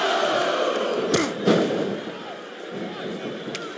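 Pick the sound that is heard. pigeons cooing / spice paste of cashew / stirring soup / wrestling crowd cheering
wrestling crowd cheering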